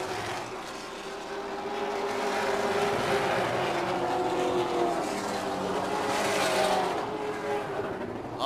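Racing trucks roar around an oval track, a steady loud engine drone swelling as the pack passes by, with a commentator's voice faintly underneath.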